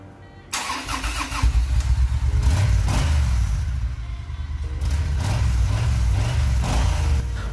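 A superbike engine, freshly serviced at home, cranks and catches after a short quiet start, then settles into a loud, steady idle with a deep, throbbing rumble that holds to the end, briefly dipping and swelling again.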